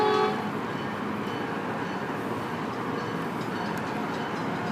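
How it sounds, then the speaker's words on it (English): Trains rumble at North Station in Boston, a steady low mechanical drone of idling rail cars with a brief horn-like tone at the start, heard from the platform with no talking. "We just got 2 more trains and we're still waiting for the Downeaster."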